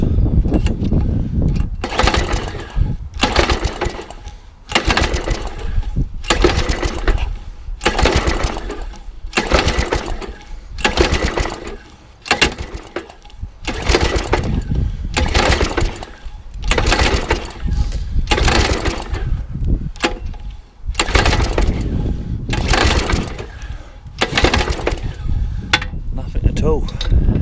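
A trash-picked lawn mower engine being pull-started again and again, a long series of rhythmic bursts of cranking and sputtering separated by short gaps, loud and close, with no sign that it catches and runs.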